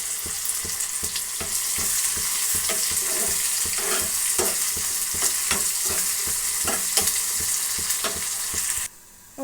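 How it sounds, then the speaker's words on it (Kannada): Tempering spices for bassaru sizzle loudly in a hot pan with rhythmic stirring scrapes, a continuous close-up crackle that cuts off abruptly just before the end. "ನೋಡಿ, ಒಗ್ಗರಣೆ ಆಗಿದೆ."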